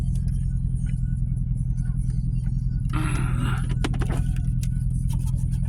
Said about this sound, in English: Gotta let this car heat up.